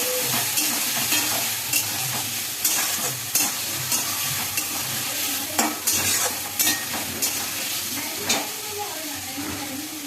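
Aloo posto, potatoes with poppy seed, being stirred and fried in a pan: a steady close sizzle with repeated scraping strokes of a spoon against the pan, irregular and busy throughout.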